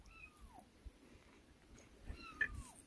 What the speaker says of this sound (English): And some kitty cats.